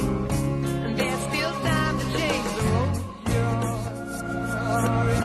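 A song played in reverse, a dense, continuous wash of backward instruments and warped, smeared vocal tones filling the whole stretch at steady loudness.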